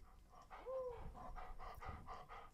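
A dog panting up close in quick, rhythmic huffs, with a brief whine partway through.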